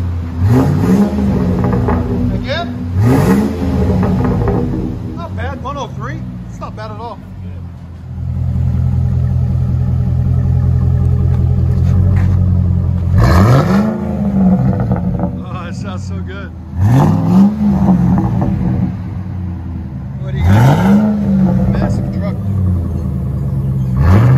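Ford F-150 5.4L Triton V8 revving repeatedly through an aftermarket exhaust (Carven R-Series or Flowmaster Super 44), loud close bursts rising and falling over a deep rumbling idle.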